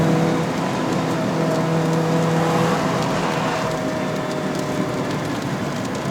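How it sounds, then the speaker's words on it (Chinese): A ZC31S Suzuki Swift Sport with a 1.6L engine and five-speed manual roars loudly while climbing a wet, misty mountain road, heard through an open window as a steady, sustained engine and exhaust drone with no talking. "听到它的那个 engine 声，还有那个exhaust 咆哮声"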